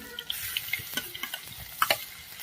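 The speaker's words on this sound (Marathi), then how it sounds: "आता इथे लसूण पेस्ट एकदम छान तळत आल्यावर" Garlic paste frying in oil in a pan over a wood-fired clay stove, a soft continuous sizzle with light scraping and stirring clicks scattered through it, quiet and close.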